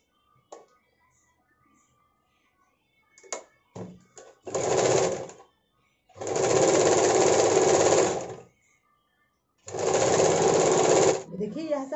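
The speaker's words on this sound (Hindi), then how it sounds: "अभी हम सिलाई कर रहे हैं।" An electric sewing machine stitches a sleeveless princess-cut blouse in long steady whirring runs of a few seconds each, separated by pauses and brief starts, with someone talking between the runs.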